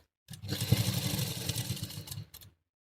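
A sewing machine stitches the neckline of an A-line gown in one continuous, close, rapid whirring run of a couple of seconds, then stops briefly and gives a short final burst.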